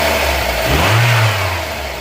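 A Mazda Miata engine, freshly fixed after a leaky valve cover job, runs loud and close with a smooth low hum that swells briefly as if lightly revved, then settles back.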